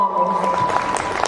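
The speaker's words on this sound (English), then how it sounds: "Give a huge round of applause for such an amazing performance." A brief burst of audience applause after a performance at a school annual day celebration, steady and fairly loud crowd clapping with a faint tone underneath.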